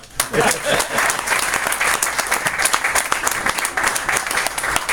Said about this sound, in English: let's give ourselves a hand for filling the house